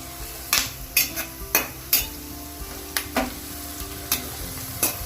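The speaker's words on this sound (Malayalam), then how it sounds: "ബ്രൗൺ ആയിട്ട് റിച്ചിട്ട് സവാള വറുക്കുകയാണ്" Onions fry in oil for chicken biryani while a metal spoon stirs and scrapes the pan, giving sharp clinks in an uneven rhythm over a soft, steady sizzle, close by and with no voices.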